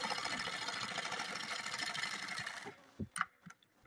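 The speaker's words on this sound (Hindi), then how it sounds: "इस पर डबल सिलाई लगा देंगे, नहीं तो सिलाई दौड़ने लगती है।" Sewing machine stitching a fabric collar: a steady, fast mechanical whirr runs close and loud for most of the clip, then stops, leaving a few faint clicks and handling knocks.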